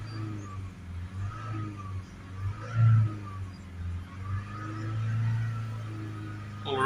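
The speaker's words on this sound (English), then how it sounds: "Give it a few revs." A car engine revs up in a steady rise and fall, then climbs to a loud peak at about three seconds before settling back into a droning idle. The revving is done for a diesel particulate filter check, heard from inside the vehicle.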